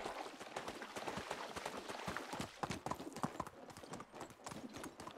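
Donkey hooves clip-clop steadily and rapidly on the ground in the Medieval Dynasty video game, a continuous busy trotting rhythm that is fairly close and even in loudness.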